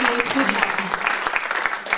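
Applause at a national day event against sexism, a brisk patter of clapping hands heard nearby under a speaking voice, with regular sharp claps throughout.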